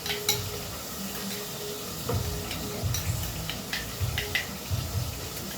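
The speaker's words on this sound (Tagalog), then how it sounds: "Ayan, haluin muna natin." Kinilaw na bangus, raw milkfish salad, being stirred in a bowl, giving soft wet clinks and scrapes in an uneven rhythm, fairly close and moderately quiet.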